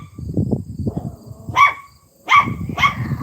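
A young female puppy at home lets out three sharp, high yips and barks between lower growly grumbles, close and fairly loud.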